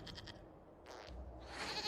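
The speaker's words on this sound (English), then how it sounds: "we discovered this man attacking the building with a goat" Goat bleats in Dragon Age: Inquisition, a quick trio of nasal cries up front followed by a longer bleat, with a low rumble and rising ambient noise behind, no talking.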